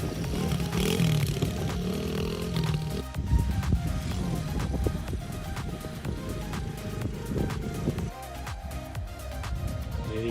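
A 125 big wheel pit bike lapping the same short stretch of dirt track, its engine a steady droning buzz that swells and fades as it circles nearby, with no break in the noise.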